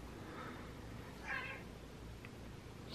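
A pet cat meows once, fairly faint and short, in a quiet indoor room with light background hiss and no one talking.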